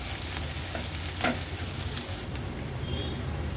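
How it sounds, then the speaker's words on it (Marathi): Chopped onion frying in oil over a low flame, a soft continuous sizzle with faint occasional stirring, steady and close, no voices. "कांदा तेलामध्ये छान शिजवून घ्यायचा आहे।"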